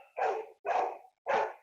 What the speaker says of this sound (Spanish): A mi perro ladrando.